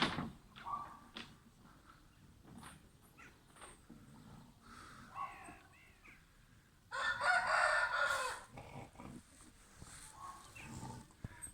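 A rooster crows loudly once, mid-clip, against a background of scattered farmyard clucks and rustling.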